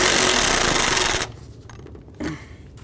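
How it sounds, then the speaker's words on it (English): A bolt being snugged up on the washer fluid tank of a 1994-2004 Chevy S-10, heard as a loud, steady power-tool whir for just over a second, then a quieter lull and a short final burst. "We'll put in our bolt and then we'll snug it up."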